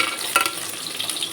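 Medium onion, chopped, frying in a pan for cabbage poriyal: a soft, steady hiss and sizzle, close and unbroken, with a faint stir near the start.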